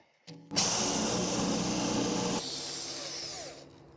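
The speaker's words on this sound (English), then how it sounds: "I'm going to drill just a couple more." A power drill whirs loudly for a couple of seconds, then its pitch drops as it winds down and grinds to a stop.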